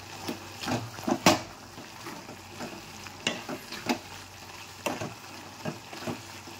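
Peanut-cake curry bubbling in a pan, with a steady low simmer and a few sharp stirring knocks and scrapes scattered throughout, close by with no talking.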